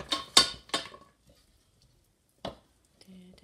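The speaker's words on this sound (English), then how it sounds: "I'm using this wooden spoon because I broke the other ones. But then just stir it." A wooden spoon stirs ingredients for rocky road in a pan over low heat, making a few close, quick scraping strokes at the start and another brief scrape later, with long quiet gaps between them.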